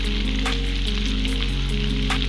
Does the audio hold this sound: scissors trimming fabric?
no